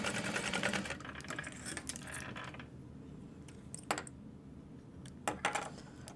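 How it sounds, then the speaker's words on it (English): A sewing machine runs a quick box stitch on a tote in hot pink thread. A dense mechanical whir comes in short runs, then gives way to a few sharp clicks and taps near the end. "So just doing a quick box stitch."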